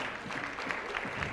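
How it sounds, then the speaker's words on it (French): An audience in a hall applauds the guests of a round-table discussion on sexism in sport and culture, a brief, dense and steady stretch of clapping. "On peut les applaudir."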